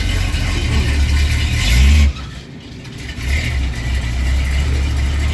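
A 1970 Dodge D100 truck engine runs steadily near at hand, rises briefly in a rev, drops back and then settles into a loud continuous idle, with no voices over it.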